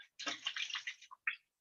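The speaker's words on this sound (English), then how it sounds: "you put your water in your pot." Water pours into a cooking pot while lima beans are prepared, a bright splashing gush of about one second, then a short trickle and a final splash, fairly quiet and without talk.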